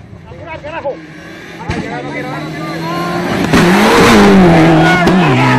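A rally car on a South American championship rally stage approaching and roaring past close by, its engine rising into a loud, revving surge, with a commentator's voice audible over it.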